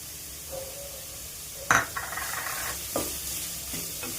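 Half a kilogram of chopped beetroot and salt being mixed in a pan, with a sharp clank of a spoon against the metal, then scraping stir strokes over a faint sizzle, close by, with no speech.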